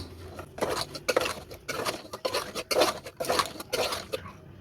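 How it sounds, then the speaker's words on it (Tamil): A spoon stirs ground coconut-cashew paste into beef kulambu in a metal pot, giving a close series of rhythmic scrapes and clinks that pulse in short bursts for several seconds. "நல்லா மிக்ஸ் பண்ணி விட்டுருவோம்"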